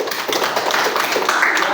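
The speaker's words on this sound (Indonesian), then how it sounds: "Tepuk tangan untuk kelompok Al-Malik." Students in a classroom clap for a presenting group, a short burst of uneven, close handclaps with a little background chatter.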